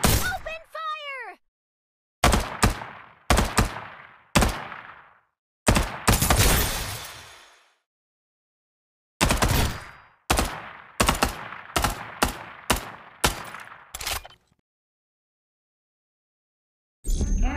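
Bursts of gunfire in the battle royale game Farlight 84: rapid automatic volleys in sharp clusters separated by silences, loud and close, with in-game voice callouts between shots.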